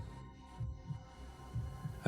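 Deep, thudding heartbeat pulses in pairs, a pounding double rhythm repeating about every second over a low hum, close and alone with no voices.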